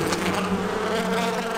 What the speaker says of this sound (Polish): Tego to ja się nie spodziewałem, że mogą mnie zaatakować pszczoły.